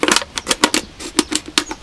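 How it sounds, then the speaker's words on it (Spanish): Scissors cutting a plastic bottle, a rapid series of sharp crisp snips and crackles, close up, about a dozen clicks in quick irregular rhythm with no talking. "También podríamos utilizar unas tijeras, a ver si resulta."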